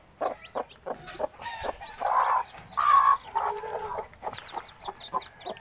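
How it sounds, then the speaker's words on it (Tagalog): A brood of black Hulohano chicks peeps and cheeps for their mother hen, giving a busy, close run of short high calls with a few louder, drawn-out cries in the middle. "Hinahanap nila yung kanilang nanay. Ito po yung ating mga sisiyo mga kaagre na mga huluhano."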